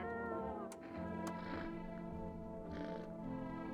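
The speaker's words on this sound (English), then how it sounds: "The kitty is up here." A video game cat meows several times in quick succession, a clear tonal mewing that rises and falls against a quiet, humming backdrop.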